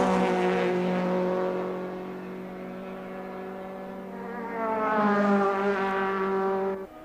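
Race cars, including a Renault, screaming past in a steady, loud engine drone at the 1988 SCCA National Championship, pitch sagging and then rising as the cars rush by near the track, with no one speaking.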